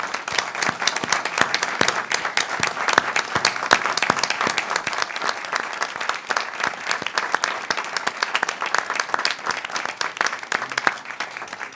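A board meeting audience gives sustained, vigorous applause, many hands clapping densely and evenly for a long stretch with no talking over it.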